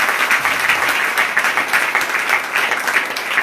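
A church congregation claps loudly for the Lord during a Hindi sermon, a dense, vigorous burst of applause filling the whole moment.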